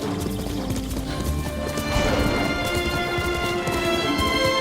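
Horse hooves clip-clopping at a gallop in the Ghost of Tsushima video game, a quick rhythmic drumming over game music, growing louder midway.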